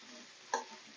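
Onions fry on a low flame in a pan, a soft, faint continuous sizzle with one brief louder tick or stir partway through, no voices.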